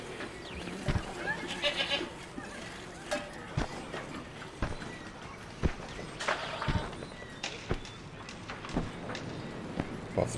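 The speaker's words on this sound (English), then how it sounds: "Damn goats eat through anything." In the video game Homefront, goats bleat and trot nearby with clip-clopping hooves and sharp footstep-like knocks scattered across a quiet ambient background, moderately faint throughout.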